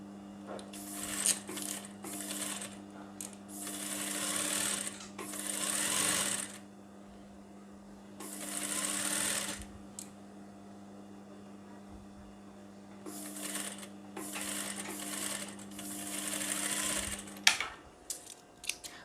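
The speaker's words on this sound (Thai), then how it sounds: "แล้วก็เย็บ นะคะ เย็บต่อกลางแขนเลย" A sewing machine stitches the middle seam of a garment sleeve in several loud whirring bursts separated by pauses, with a constant motor hum underneath and a small clack near the end.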